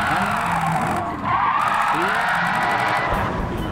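A race car in Gran Turismo 7 brakes hard and skids, its tires squealing loudly and continuously over a droning engine for several seconds.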